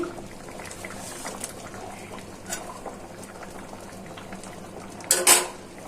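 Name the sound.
lentil dal with ash gourd boiling in pot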